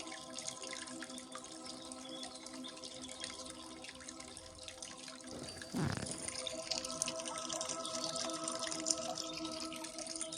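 Water trickles and splashes steadily like a brook, fairly faint and continuous, with a soft whooshing swell near the middle.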